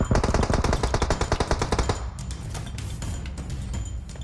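Rapid automatic gunfire from PUBG Mobile, a loud burst of evenly spaced shots fired at the underside of a vehicle, breaking off halfway into a dense, ringing game soundscape.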